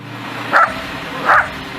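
A rescue dog used in searches under rubble gives two short, moderately loud barks about three-quarters of a second apart, with a low steady background hum between them.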